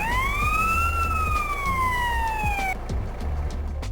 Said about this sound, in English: toggling a secondary siren by holding down the horn button while you're driving an emergency vehicle